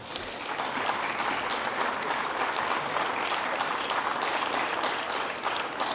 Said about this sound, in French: Je pense qu'on peut applaudir nos intervenants.